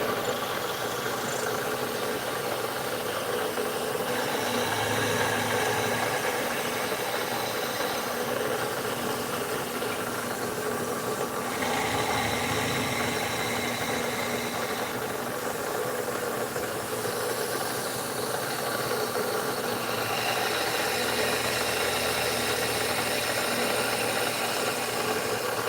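A CNC machine mills valve bodies, a loud continuous mechanical whir and grind with rattling and shifting tones as the cut changes, steady throughout without pauses.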